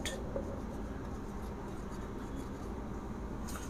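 Chalk or marker writing on a board during an English grammar lesson, a steady scratchy scraping that runs close and continuous with no talk over it.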